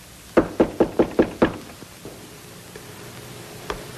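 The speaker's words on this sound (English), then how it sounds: "Isn't that someone at the door?" A door knocked on in a 1954 film, six quick, evenly spaced raps close by, followed by quiet room tone and a single softer knock near the end.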